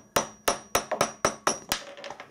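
A dead blow hammer taps a workpiece seated on parallels in a milling machine setup, about seven sharp, close metallic knocks in a fairly even rhythm, with no talk.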